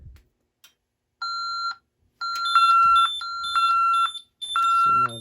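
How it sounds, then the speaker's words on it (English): A Honeywell 6290W security panel sounds its panic alarm in a sequence of loud, clear electronic beeps, pulsing tones with short gaps, close by. "So now the beeping."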